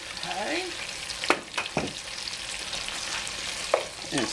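Food stirred as it fries in a pan for a Greek-Southern pasta dish topped with cracked pepper, a steady broadband sizzle with a few sharp scrapes and knocks of the utensil against the pan.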